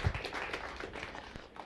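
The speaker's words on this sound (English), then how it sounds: "a round of applause" Audience applause at a public health preparedness presentation, a brief burst of dense clapping from a room of listeners, steady and moderately loud for under two seconds.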